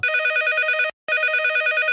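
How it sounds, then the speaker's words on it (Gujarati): A telephone rings in two long electronic bursts split by a short gap, clear and close, with no one speaking over it. "એટલે ફોન આવ્યો"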